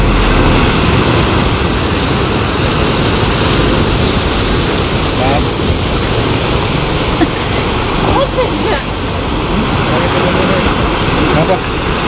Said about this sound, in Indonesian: aku bisa dengerin suara ombak yang bener-bener merdu banget